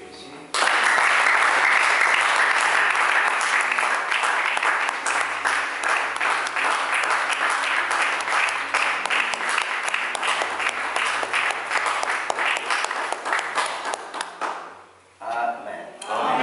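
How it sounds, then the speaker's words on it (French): A church congregation at a Sunday service applauds in a dense, sustained burst of clapping that lasts about fourteen seconds before thinning out and fading. "On acclame pour Jésus"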